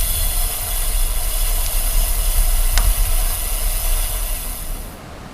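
A train rumbles past on a railway in a steady, loud, continuous roar with hissing high-end noise, heard outdoors along the line until it fades abruptly near the end.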